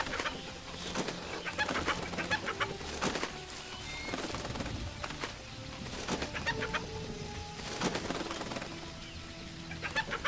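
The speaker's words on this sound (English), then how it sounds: "Got chickens." Chickens in a survival video game cluck and coo in short repeated bursts, moderately close, over a steady ambient background with no talking.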